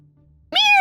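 A cat lets out a single loud, close meow that rises out of near-silence and carries to the end.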